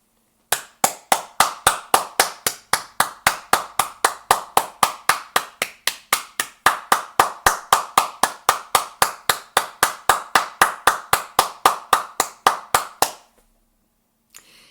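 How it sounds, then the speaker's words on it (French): Sunday church congregation clapping in unison, a fast, steady rhythmic beat of roughly four claps a second, crisp and close, running for about twelve seconds before stopping abruptly into near silence. "je vous invite avec moi à les applaudir"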